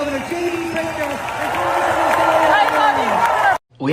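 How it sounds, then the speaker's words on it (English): A crowd applauds and cheers for Governor J.B. Pritzker: a loud, sustained wash of clapping and whooping voices with tonal shouts riding on top, cut off abruptly just before the end. "Let's give another round of applause to Governor J.B."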